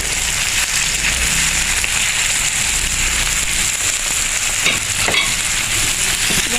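Chicken devil ingredients fry in a pan while being stirred, a steady close sizzle with scraping spoon strokes running throughout.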